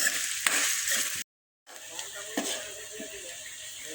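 Onions, ginger and green chilli fry in a pan for a vegetable pasta, giving a steady, close sizzle with occasional stirring clinks; the sound cuts out completely for a brief moment midway.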